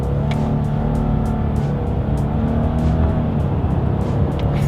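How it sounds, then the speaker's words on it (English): A 2020 Subaru Legacy with a CVT accelerates in paddle-shifted manual mode, its engine droning loudly and steadily from inside the car, with faint ticks and brief stepped shifts in the pitch. "let's go ahead and test out the paddle shifters and see how quickly they react for us here."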